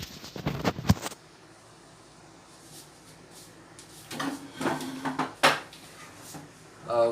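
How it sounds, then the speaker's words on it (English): In a home kitchen, a drawer slides and cutlery clinks as utensils are pulled out, with a few short rattles at the start and a cluster of clatters near the end, separated by quiet. "I have to get my utensils first before I begin eating."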